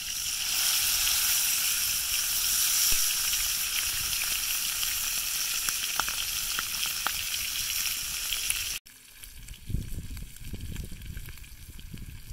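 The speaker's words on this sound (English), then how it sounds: "we're gonna sear it in the pan first" Meat sears in a pan at a rainy campsite, a loud steady sizzle and crackle that cuts off abruptly near the end, leaving quieter low rustling and handling sounds.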